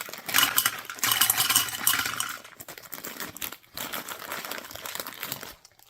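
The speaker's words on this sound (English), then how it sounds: "put the gumballs into like a Ziploc storage bag, and then just open the littlest amount of space for the gumballs to go in" Gumballs pour and rattle from a Ziploc storage bag into a gumball machine, a dense close clattering with plastic crinkling in two bursts separated by a short pause, then trailing off.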